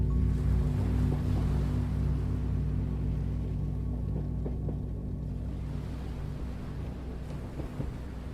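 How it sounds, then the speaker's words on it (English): Distant ocean waves heard from a moving train crossing toward the Moray Firth, a steady low rumbling wash with soft swells, continuous and fairly faint, with no voices. "the distant sound of waves"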